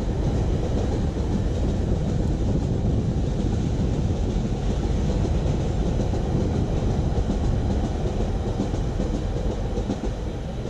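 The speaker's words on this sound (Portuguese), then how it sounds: "Trem de passageiro, Vitória a Minas." The Vitória a Minas passenger train rolls past close by, with a loud, steady rumble and rhythmic clatter of wheels over rail joints. Some wind buffets the microphone.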